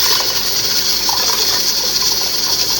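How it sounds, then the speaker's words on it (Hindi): Water pours steadily into soaked lentils for dal, a continuous gushing splash that runs loud and close for about three seconds with no talk over it. "दाल के अंदर जो पानी है वो भी डाल लेना है"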